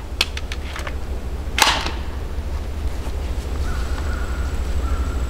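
A Hi-Point 995 carbine fitted with a muzzle brake fires a single sharp outdoor shot, preceded by a few faint clicks, with a steady low background rumble throughout.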